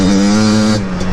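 A Yamaha Blaster ATV fitted with budget Chinese components warms up, its engine holding a steady, loud, close idle hum with a slight wavering toward the end.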